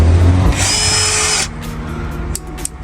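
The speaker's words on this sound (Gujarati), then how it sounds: "ખાડા પાડવાનું મશીન ચલાવતો છે" A hole-digging machine at a cricket ground runs loudly and close, a steady high whine with a low engine rumble that drops and shifts partway through.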